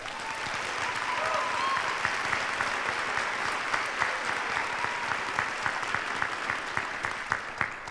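Warm applause at a college of nursing hooding ceremony, a dense, even wash of clapping from a large audience lasting eight seconds with occasional louder individual claps and faint voices.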